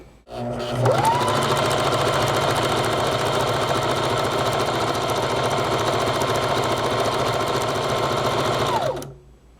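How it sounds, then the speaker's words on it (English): A sewing machine runs steadily for about eight seconds while stitching a fabric edge to fake a serged finish, producing a loud, even mechanical whir with fast rhythmic needle clatter that starts and stops abruptly, with no talking. "Now I'm going to sew, and you guys are going to see the effects"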